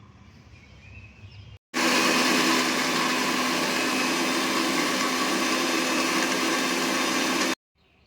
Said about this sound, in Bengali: তো চলো এবার এটা আমরা ভালো করে ব্লেন্ড করে নিয়ে আসি।